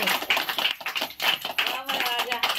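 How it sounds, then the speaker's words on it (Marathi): A few people at a home gathering clap for a small child, an uneven patter of hand claps in short bursts mixed with voices talking. "टाळ्या वाजवा त्याच्यासाठी."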